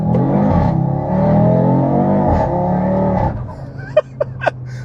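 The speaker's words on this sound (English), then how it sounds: "How good is the exhaust note?" An Audi RS3 (8Y) engine revs up and holds a loud, droning exhaust note, then drops away to a quieter idle with a few sharp clicks.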